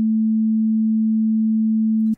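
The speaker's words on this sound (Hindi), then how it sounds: "यहाँ पे टोन जा रहा है 220 हर्ट्ज का" A pure 220 Hz sine test tone hums steadily and evenly for about two seconds, then cuts off abruptly with a tiny click.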